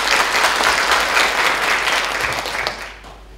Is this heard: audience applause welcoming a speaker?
yes